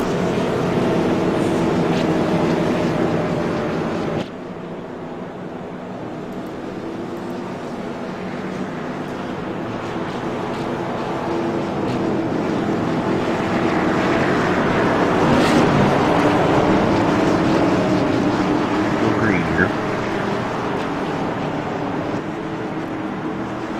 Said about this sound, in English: Race car's in, and Alan Lowe's on the gas.